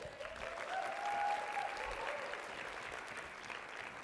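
Audience at a social media marketing conference keynote applauds a guest, Kim Garst, with a soft, steady, distant-sounding patter of clapping.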